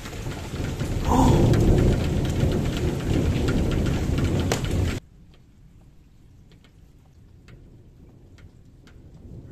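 Intense thunderstorm with torrential rain and thunder: a loud roar of heavy rain and rumbling for about five seconds, then an abrupt drop to faint, quiet background.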